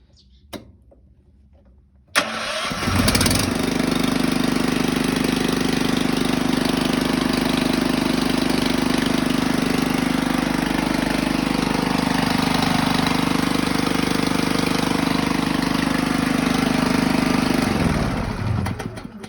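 An engine cranks with a freshly rewound starter armature and fires, then runs at a steady, loud idle for about seventeen seconds before cutting off, close to the listener with no talking.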